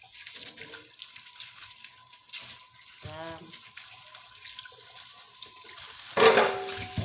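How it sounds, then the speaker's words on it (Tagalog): Slow trickle of tap water running over corn cobs being washed in a home kitchen before boiling, a steady low splash with a brief gurgle midway and a louder gush near the end, a voice speaking briefly. "Mahina lang ang tubig para di maaksaya. Ganyan lang. Hinay-hinay lang ang tulo."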